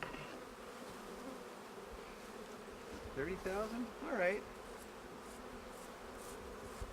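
Honey bees buzz steadily around frames during a honey harvest in a bee yard, a faint, continuous drone under a voice.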